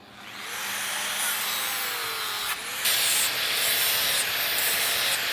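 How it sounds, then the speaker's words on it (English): Steady abrasive rubbing of fine sandpaper smoothing a finish, a continuous scratchy hiss with a brief pause midway, close by. "we use a lighter sanding paper to smooth the finish"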